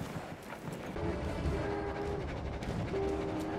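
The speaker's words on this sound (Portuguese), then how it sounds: "O trem tá voltando." A train rumbles past in the video game Battlefield 1, a steady heavy rolling drone with sustained horn blasts sounding twice over it, fairly close and loud.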